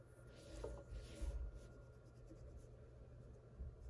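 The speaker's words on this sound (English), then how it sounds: "so I'm going to draw one more in here." A pencil draws on paper, soft close scratching in short strokes and rubs, faint and quiet with no talking.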